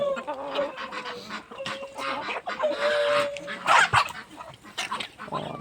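Bantam chickens and geese cluck and honk together in a busy farmyard mix at feeding time, several overlapping calls rising and falling with a louder squawk near the end.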